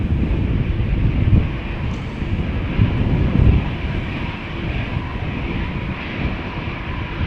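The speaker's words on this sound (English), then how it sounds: "EasyJet A319 is coming this way" An EasyJet Airbus A319 airliner rolls past at Amsterdam Schiphol Airport, its steady jet-engine roar loud and close, with a broad low rumble and some wind buffeting on the microphone throughout.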